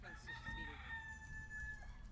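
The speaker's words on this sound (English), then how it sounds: "Roosters and chickens all over people's yards, on roofs, and even crossing the streets." Roosters crow in a Phoenix neighborhood near 34th Street and Earl, where chickens roam yards and roofs. The crowing is long, drawn-out and somewhat distant over a low background rumble.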